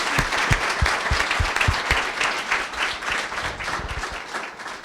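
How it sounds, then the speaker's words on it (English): An evening crowd at a women-in-HR event applauds the panel with loud, dense clapping from many hands, a few sharp claps standing out close by, continuing steadily throughout. "Please give our panel a round of applause"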